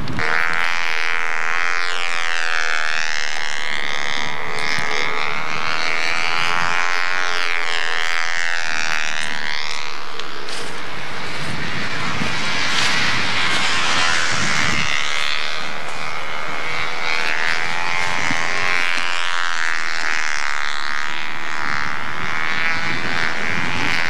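A Cessna Cardinal light aircraft on a practice flight gives a loud, continuous propeller-engine drone, heard close as if from the cabin, with its tone shifting slightly throughout.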